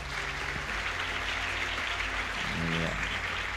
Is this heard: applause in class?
yes